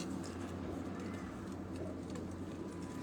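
Pigeons coo softly in the background, their calls sitting low within a steady, noisy ambience with no clear break.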